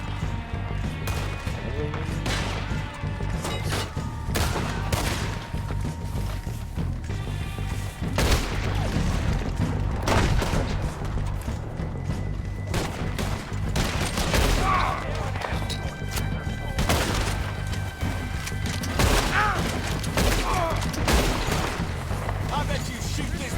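Gunfire in Red Dead Redemption 2 during a shootout near cabins: repeated sharp shots and impacts crack through a dense, continuous game soundscape with a low droning bed, while a person talks over the action.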